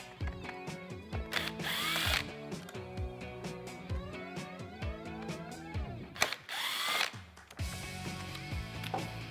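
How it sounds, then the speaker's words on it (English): A power driver fitted with a T20 Torx bit whirs in several short bursts and ramps while backing two screws out of a mass airflow sensor on a 2019-2022 Silverado 5.3L factory airbox, close and alone with no talk. "I'm going to use a T20 Torx bit and remove the 2 screws."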